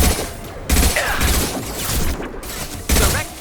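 In the Mass Effect 2 video game, a grenade blast and a burst of gunfire boom out, with several heavy thumping impacts and crackling shots arriving in loud irregular waves during a firefight.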